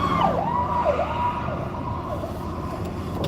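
An ambulance siren wails in a rising and falling sweep, moderately distant, as it passes along a road over steady traffic rumble, with no one speaking.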